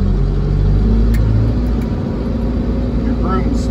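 Tymco street sweeper engine idling loud and close with a low rumbling drone, revving briefly, while someone talks over it.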